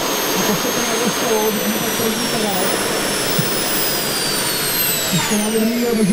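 A Praga Doris M208B engine on an L-60 Brigadýr aircraft drones loudly and steadily at an outdoor model air show, with broadband roar and a high whine; someone talks over it.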